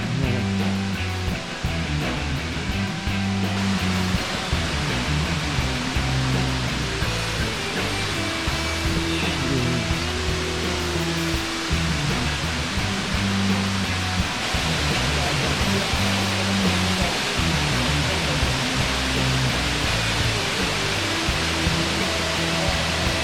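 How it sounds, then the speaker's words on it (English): Waterfall along the Bruce Trail in the Iroquoia section, a steady broadband roar of falling water that holds evenly for the whole stretch, close and loud, with no talk over it. "Gorgeous waterfall."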